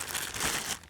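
Thin plastic bag holding lens cloths crinkles steadily and close up for about a second, alone with no talk.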